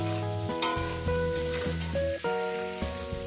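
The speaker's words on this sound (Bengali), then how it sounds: "বেগুনটাকে সুন্দর করে কি পাঁচ মিনিট ধরে আমি এটাকে সুন্দর করে ভেজে নেবো" Eggplant fries in a pan for a Bengali vegetable chorchori with rohu fish head, a continuous soft sizzle running under prominent steady background music that changes pitch every half second or so.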